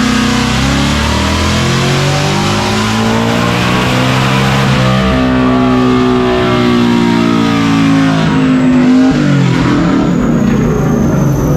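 A supercharged Whipple Ford Mustang S650 with a smaller pulley revving loudly up close, the engine note rising and falling as it accelerates, with supercharger whine over the exhaust.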